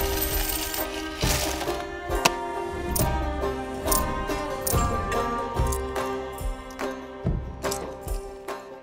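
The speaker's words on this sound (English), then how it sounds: "you can hear the coins being poured into the counting machine" Coins pour and clatter into a counting machine at the Trial of the Pyx, a continuous metallic jingle with sharp clinks and thuds, steady throughout at moderate loudness.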